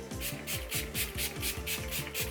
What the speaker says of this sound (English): now I'm just going to be actually spraying my entire face with the Hangover Cure Too Faced